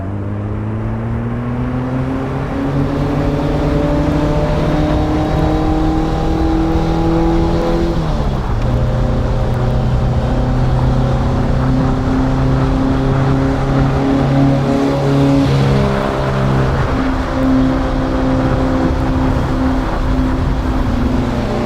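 A 1957 Porsche 356A Outlaw engine cruises on a freeway, a steady loud drone that climbs in pitch through the gears, drops sharply at a shift and climbs again, heard close from inside the car with wind and road noise.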